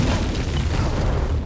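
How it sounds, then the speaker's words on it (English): A spaceship breaking apart and crashing in a fiery explosion on rocky ground: one loud, sustained, rumbling blast that fills the whole stretch without letting up, with no voices. "The ship broke apart and crashed in a fiery explosion, the shock wave throwing Andy across the rocky ground."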